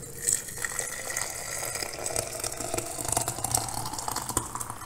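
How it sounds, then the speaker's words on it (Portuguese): Boiling water, about 700 ml, pours steadily into a teapot over fresh lemongrass leaves, a continuous splashing gush that fills the whole stretch at close range with no talking. "Eu vou colocar aqui 700 ml de água já fervendo."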